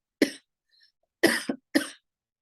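Three sharp coughs from one person, close and clear: a single cough, a pause, then two quick coughs in succession against silence.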